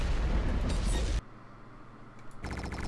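Heavy gunfire from a regular gun in the game Battlestorm, loud booming shots that cut off abruptly into a quieter mechanical hum, then a burst of rapid clicking shots at the end.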